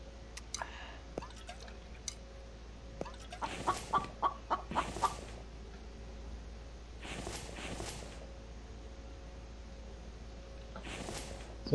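A chicken clucks in the survival game The Infected, in a few short bursts of clucking spread across the stretch, over a quiet ambient game background.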